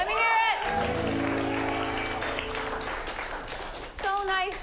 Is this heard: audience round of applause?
yes